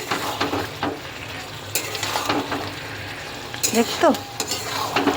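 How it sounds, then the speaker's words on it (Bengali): Pointed gourd and potato pieces stir-fried in spiced oil, with steady close sizzling and scraping stirs, a few sharper clinks and spatula knocks of a pan breaking through the frying hiss. "এবার আমি দিয়ে দেবো পটল আলু, ভেজে রাখো পটল আলুগুলো দিয়ে একটু হালকা কষিয়ে নেব"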